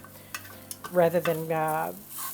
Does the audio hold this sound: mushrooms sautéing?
yes